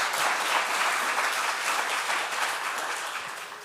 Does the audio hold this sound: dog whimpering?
no